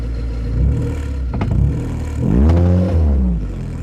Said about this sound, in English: Need to look at that exhaust, it's really whacking against the body.